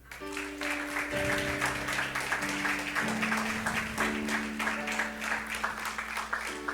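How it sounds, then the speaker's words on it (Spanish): A church congregation claps steadily during a sermon, a dense patter of applause with soft music held underneath. "Eso merece un aplauso."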